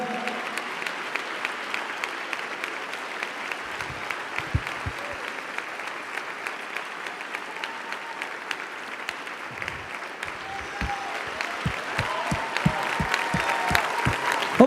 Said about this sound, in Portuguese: Continua aplaudindo aí até eles descerem